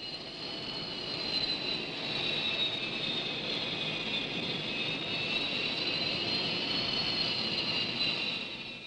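Supermarine Scimitar jet engine running at a steady high roar during a carrier catapult launch, a continuous broadband rush with a strong whine that holds evenly for about nine seconds without voices.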